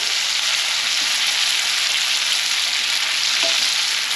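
Ex-dairy cow steak frying and being basted in a pan, a loud, close, continuous sizzle with steady crackle and no voices.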